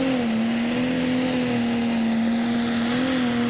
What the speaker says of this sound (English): Lots of engine RPM off the line there.